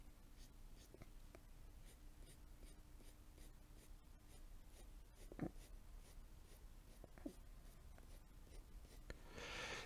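A pencil shades softly on paper for a portrait sketch of straight hair and plaits, with faint, regular scratchy strokes repeating close by and a quiet rustle near the end.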